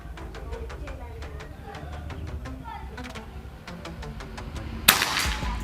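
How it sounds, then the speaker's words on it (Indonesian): A single sharp, loud crack from a PCP Predator Escobar air rifle firing a slug pellet lands near the end, after a run of quieter, regularly spaced clicks and background noise. "Tembakan yang kedua buat tes akurasi yang pertama."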